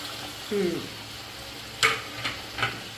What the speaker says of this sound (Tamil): இப்படியே போட்டு கிளறி போட்டு கொஞ்சம் நேரம் நல்லா வதங்கினா